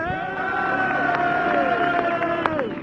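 A crowd at an Isle of Man road race cheers Joey Dunlop riding a 125 in for his 26th victory, a sustained roar of whoops and shouts, loud and steady throughout.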